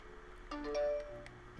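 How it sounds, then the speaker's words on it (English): A phone's text message notification chimes once, a short run of clear tonal beeps standing out over quiet background game audio. "I got a text message."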